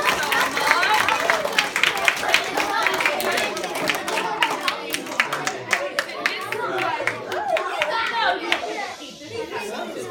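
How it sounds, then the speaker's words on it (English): An audience of children applauds, with scattered sharp claps and chattering kids' voices mixing together in a lively room. "So give these guys a round of applause."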